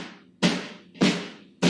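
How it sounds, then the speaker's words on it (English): Layered snare drum from a music production, with three sharp hits roughly 0.6 seconds apart, each punchy with a bright noisy body and a short decay, alone and loud. "The snare sounds like this."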